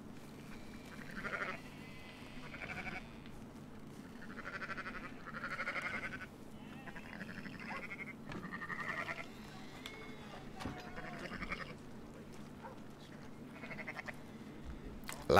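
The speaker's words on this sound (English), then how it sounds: "Lots of sheep." A flock of sheep in Red Dead Redemption 2 bleating repeatedly, with a series of separate, moderately loud calls spread over about fifteen seconds against a low steady background.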